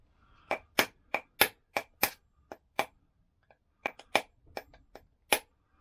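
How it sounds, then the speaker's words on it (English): A light panel hammer strikes metal while a Lambretta front hub part is knocked out, sharp ringing blows in a quick irregular series with short pauses, close and loud with no talk. "This hammer's not very heavy. It's a panel hammer for knocking dents out."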